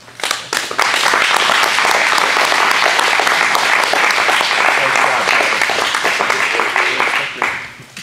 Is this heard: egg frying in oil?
no